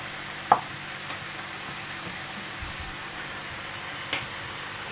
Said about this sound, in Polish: W międzyczasie cebulka z boczkiem się przysmaży.